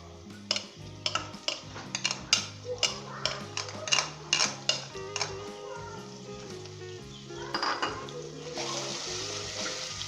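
Ginger and garlic fried with browned onions in a pot for a shahi chholay dish, a utensil clanking repeatedly against the pot over a soft sizzle, ending in a steadier hiss.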